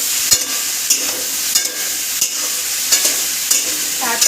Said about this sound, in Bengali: তারপর ভালো করে নেড়ে নিতে হবে।